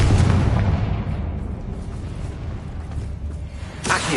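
Confringo fire spell explosion in the Hogwarts Legacy video game, a loud booming blast that rumbles and fades over several seconds, with a second burst near the end.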